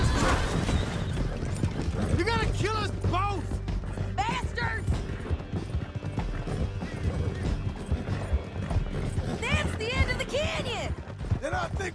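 Horses galloping in the video game Red Dead Redemption 2, with steady loud clip-clop hoofbeats throughout, punctuated by horses neighing and whinnying, while characters shout over the ride.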